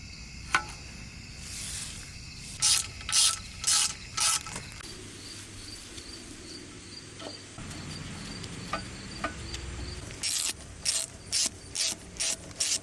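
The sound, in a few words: ratcheting bolts to install throttle body actuator brace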